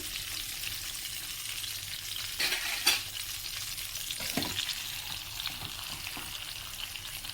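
Mackerel wrapped in banana leaf cooks in a covered pan with a steady, fairly quiet hissing sizzle and a couple of brief clattering bumps partway through; nobody speaks.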